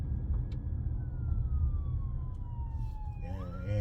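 An ambulance siren wails steadily over a loud low rumble of road noise, its tone sliding gradually downward as the ambulance passes, then shifting into a fluttering pattern.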